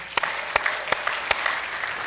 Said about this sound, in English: Give it a round of applause to these men